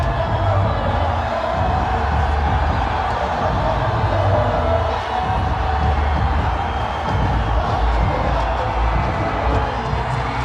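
A home crowd roars and cheers continuously after the Ranchi Rhinos win the championship over the Delhi Waveriders, a dense, loud wall of voices filling the arena.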